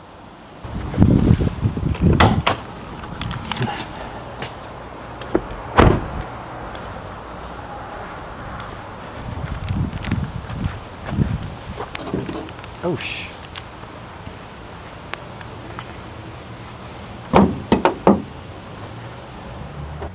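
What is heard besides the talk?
opening the hood of a 2017 Lexus LS460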